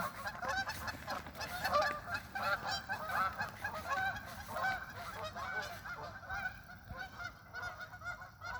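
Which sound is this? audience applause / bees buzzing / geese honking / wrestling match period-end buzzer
geese honking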